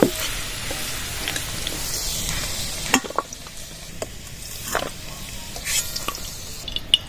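Potatoes with salt and milk frying in a pan: a constant soft sizzle with occasional spatula clacks and stirring scrapes against the metal, close and with no talking.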